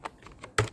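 A handful of quick keystrokes on a computer keyboard, close and quiet, with the final key press noticeably louder than the rest.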